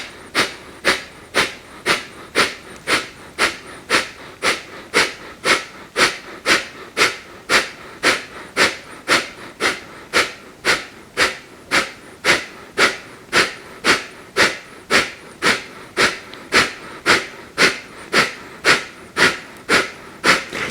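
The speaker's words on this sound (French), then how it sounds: "de cette manière, c'est la respiration de feu." Forceful kundalini yoga breath of fire, rapid rhythmic nasal exhalations repeating steadily at about two per second, close and loud, hissing sharply with no talk.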